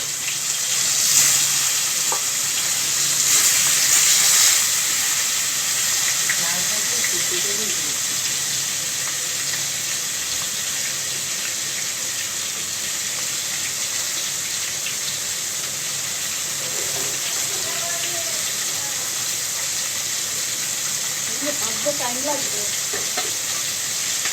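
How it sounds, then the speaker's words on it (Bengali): A katla fish head rubbed with salt and turmeric fries in a wok over cumin seeds, giving a loud continuous sizzle that hisses strongly at first and then settles into a steady fry with faint occasional stirring. "কড়াইতে ফ্রাই হওয়ার জন্য ছেড়ে দিলাম।"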